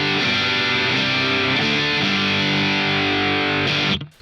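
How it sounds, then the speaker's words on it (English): An electric guitar through a Boss DS-1 distortion pedal into a Marshall Studio Vintage amp, tone and distortion at 12 o'clock, plays thick sustained chords with a few changes, loud and saturated, stopping suddenly at the end. "And then with the pedal engaged, it sounds like this."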